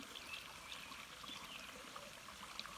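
Mountain stream on the Ouachita Trail flowing over rocks, a steady close babble and trickle of water filling the whole stretch with no voices.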